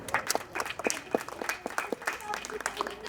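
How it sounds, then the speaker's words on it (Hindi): Scattered hand claps form light applause from a small group at an annual academy achievement award ceremony, uneven and close, with some voices mixed in. "जोरदार तालियां मुस्कान के लिए और उनके फादर के लिए"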